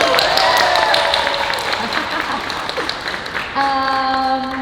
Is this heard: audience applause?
yes